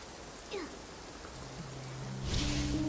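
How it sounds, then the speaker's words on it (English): Rain falls in the video game Infinity Nikki as a soft, steady hiss, with a brief chirp and a swelling splash near the end, alongside faint background game tones. "And it's raining."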